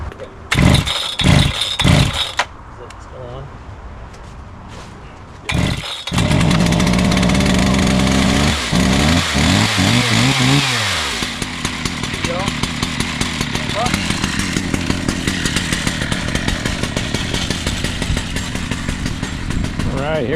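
Large chainsaw fitted with a 5-foot bar, a 3120 model used for milling giant sequoia, pulled several times while flooded and at full throttle, then catching and running loud and steady close by, with people talking.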